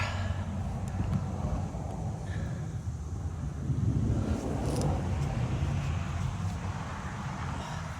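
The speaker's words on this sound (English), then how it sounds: "That traffic this morning is crazy." Morning road traffic passes as a steady low rumble of cars, with gusts of wind buffeting the microphone and no talk.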